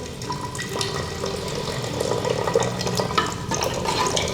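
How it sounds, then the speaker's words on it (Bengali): Water is poured from a container into a pan of Awadhi egg curry, a close splashing, gurgling stream that runs steadily for a few seconds with small bubbling bursts. "একটু জল দিয়ে দিচ্ছি"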